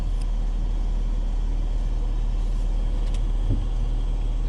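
Inside a BMW 840i on the move, a steady low road and engine rumble fills the cabin, constant and fairly loud, with nobody talking.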